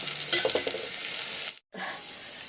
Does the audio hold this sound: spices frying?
yes